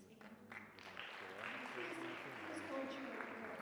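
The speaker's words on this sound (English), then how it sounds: "Please hold your applause" Audience applause at a medical poster awards ceremony as winners stand, steady clapping filling the room for a few seconds with a voice faintly underneath.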